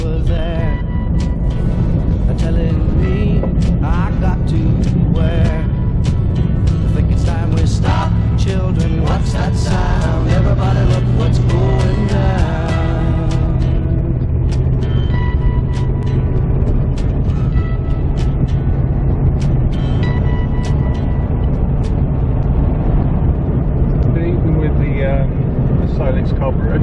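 A Rolls-Royce Camargue with a Solex carburetor is driven, filling the cabin with a loud, steady engine and road drone while people talk over it.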